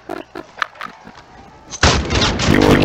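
Loud burst of rapid gunfire from Call of Duty Warzone bursts in after a quieter stretch of scattered thumps and distant shots, filling the rest of the moment with dense, sustained shooting.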